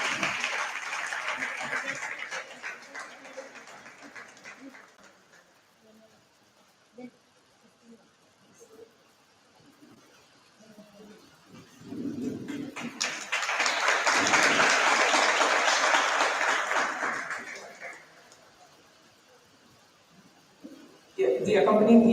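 An audience at an all-India school debate competition claps for the runner-up best speaker. Two bursts of applause are heard, one at the start and a louder, fuller one in the middle, separated by a quieter stretch with faint voices.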